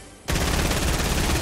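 Video game gunfire bursts in abruptly after a brief quiet moment, a dense rapid fusillade of automatic shots that stays loud and continuous to the end.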